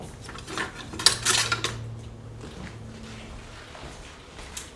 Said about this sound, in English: I'm gonna go dish out 32 ounces of the pinto beans out of my slow cooker